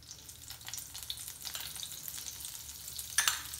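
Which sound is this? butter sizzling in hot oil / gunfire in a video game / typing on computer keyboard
butter sizzling in hot oil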